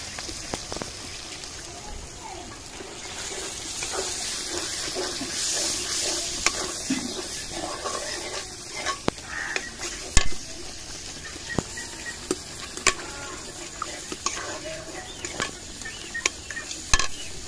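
Milk hits a hot pan and keeps up a steady sizzling hiss, while a spoon scrapes and taps irregularly against the pan.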